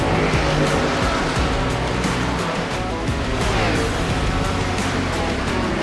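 Race cars in the NASCAR Heats Monster Racing video game, a dense, loud roar of multiple engines with overlapping revving and tire noise, continuous throughout with no voices.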